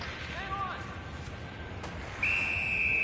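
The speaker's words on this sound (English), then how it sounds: "Whistle blown for an offside." A referee's whistle blasts during an ice hockey game between Toronto and another team, a sustained shrill tone standing out near the end over steady arena crowd noise, after a brief faint chirp earlier.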